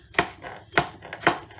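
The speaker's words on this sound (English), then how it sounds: "when you go to chop your onions" A knife chops onions on a cutting board for homemade sweet pickle relish, three sharp, evenly spaced cuts close up with no talking.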